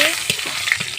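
Whole garam masala spices drop into hot oil for a winter vegetable khichuri, giving a steady, close sizzle and frying crackle with a few soft stirring clicks.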